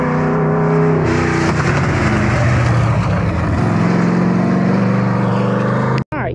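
Street stock race car engine on light throttle, droning loud and close with a wavering mid-range pitch. It holds steady and cuts out briefly near the end, with no talking.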